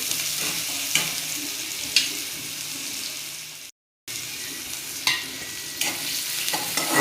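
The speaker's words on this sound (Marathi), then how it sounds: "आता त्यानंतर मी हा कांदा टाकून घेते, चांगला परतवून घेते" Onion fries in a pan with peppercorns and cloves for a spicy Kolhapuri chicken curry, giving a steady, close sizzle broken by occasional stirring scrapes and one brief dropout to silence.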